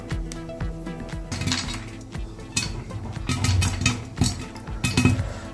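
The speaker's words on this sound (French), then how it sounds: "c'est le moment de recouvrir ma casserole" Metal clanks and clatters as a lid is set onto a saucepan of popping corn, with several sharp rattles and scrapes of cookware in quick succession.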